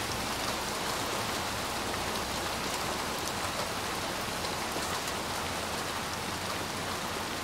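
Heavy rain pours in the video game Little Nightmares 2, a dense steady hiss of drops on surfaces, constant and fairly loud with no voices.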